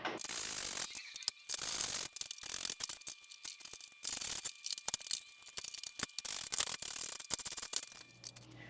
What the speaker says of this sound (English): Now we're going to take our T30 Torx and a ratchet and get those tightened down.